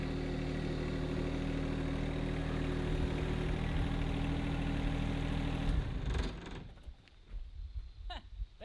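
A John Deere 1025R compact tractor engine running steadily with a loud low drone, then cutting out abruptly near the end, leaving faint clatter and quiet.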